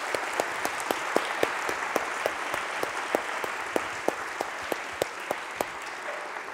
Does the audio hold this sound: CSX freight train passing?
no